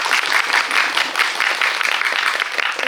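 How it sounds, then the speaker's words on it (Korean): A seated audience at a film screening Q&A gives the director and an actress a second round of clapping, steady, full and fairly loud throughout with no break. "자, 다시 박수 한번 크게 드릴까요?"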